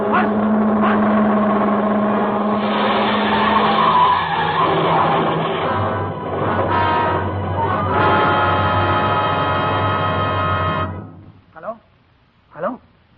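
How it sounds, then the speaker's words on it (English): A long, loud screech of car brakes and tires squealing through a curve, staged as a radio drama sound effect, sustained for about ten seconds before a few short squeals. "In my ears was the screeching of brakes, of tires taking a wild curve."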